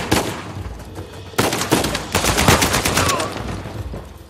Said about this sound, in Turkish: Tamam Sam'i, onu da vurduk.